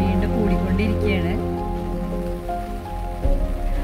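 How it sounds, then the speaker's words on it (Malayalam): Heavy rain falling on a boat, a steady wash of drops on the surface throughout, with a low engine-like hum and some faint tonal sounds beneath. "കാരണം മഴ വീണ്ടും കൂടിക്കൊണ്ടിരിക്കുകയാണ്"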